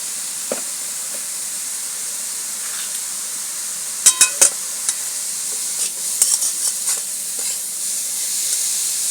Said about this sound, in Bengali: দুধটা দিয়ে এটা কম আছে একটুখানি নাড়ব